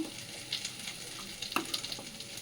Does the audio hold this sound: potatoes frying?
yes